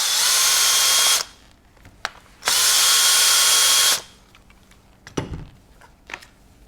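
A power drill runs in two close, loud bursts of about a second each, removing Phillips head screws from the recoil pad of a Benelli Lupo bolt-action rifle, followed by a few clicks and knocks of handling.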